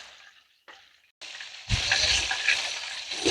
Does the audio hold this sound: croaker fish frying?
yes